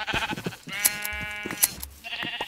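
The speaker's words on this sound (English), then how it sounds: "I think it's time we make another paddock for the black sheep." Black sheep bleating in a video game, several loud wavering bleats close by, two sharp clicks between them and short rustling noises around the calls.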